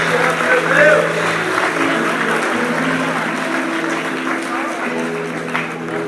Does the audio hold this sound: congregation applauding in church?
yes